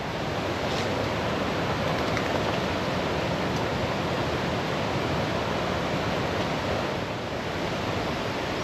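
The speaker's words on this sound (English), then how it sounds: "You can hear the water. It is very, very powerful, but there's been so much rain." Dawlish Water, a small river swollen by heavy autumn rain, rushes past in a loud, continuous roar of flowing water, with no voices over it.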